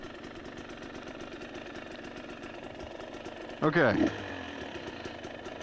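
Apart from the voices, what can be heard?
motorcycle engine idling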